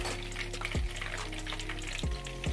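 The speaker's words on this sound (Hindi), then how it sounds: "इनको भी फ्राई कर लेते हैं।" Mutton kofta fry in a pan with a continuous close sizzle and hum, broken by a few quick scraping or clinking utensil sounds.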